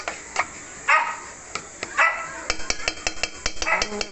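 Several dogs bark excitedly nearby while waiting for vegetable food, with scattered barks early and a rapid flurry of yips and barks toward the end.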